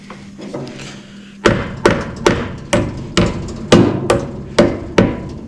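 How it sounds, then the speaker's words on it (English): A hammer bangs on a Ford 300 wood chipper: about nine sharp, ringing metallic strikes in a fairly even rhythm, which start after a second or so of low background hum. "Hammer, universal tool for everything."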